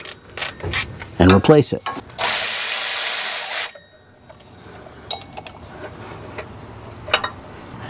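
A wrench loosening and removing the idler pulley on a 2003 Toyota 4Runner 4.0L V6, with quick metallic ratcheting clicks, a sustained loud whirring burst, then scattered clinks and taps; someone speaks briefly.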